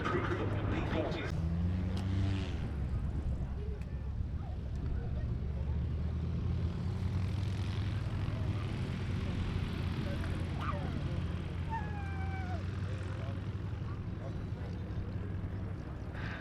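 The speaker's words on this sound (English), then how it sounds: "And there's Stu Goldspink bringing in the P-40F" Curtiss P-40F fighter flying at the Duxford airshow: a steady engine drone, fairly distant, under continuous crowd and wind noise, with an announcer talking.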